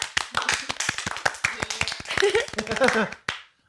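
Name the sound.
hand clapping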